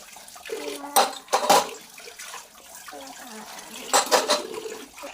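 Dry pasta being rinsed and washed by hand in water, with intermittent splashing and sloshing bursts over a quieter trickle, heard close in a home kitchen.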